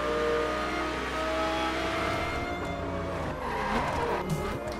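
A Lamborghini Gallardo in the racing video game The Crew, with a steady engine roar and drawn-out tire squeal as the car skids, close and continuous throughout.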